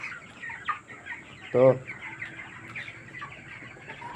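Chickens cluck steadily in a hot poultry shed with dimmed lights, a busy chorus of overlapping calls with one louder squawk near the middle and a brief word of speech.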